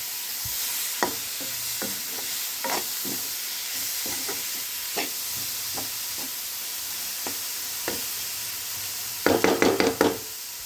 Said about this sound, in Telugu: ఎండు రొయ్యలు వేసి కలియబెట్టుకుందాం